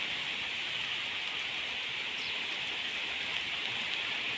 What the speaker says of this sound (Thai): ฝนมันสาดมาทางนี้ไงทิศตะวันออกนี่ไง